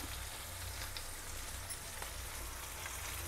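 Okra masala, South Indian ladies finger fry, crackles softly in a pan with a faint, even sizzle at low volume and no talk.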